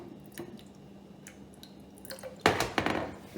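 Excess water being drained off buffalo mozzarella curd: faint drips and small splashes, then a louder burst of pouring and sloshing water near the end, with no talking.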